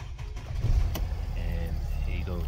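A 2009 Mercedes ML320 diesel idles after a full service, a steady low rumble running close by for the whole stretch, with a brief click partway through.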